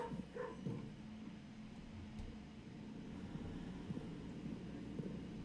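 Dog barking in a kennel room in the video game Blue Prince, steady low rumbling barks and yips carrying through the whole stretch over a dense background hum, with no one talking.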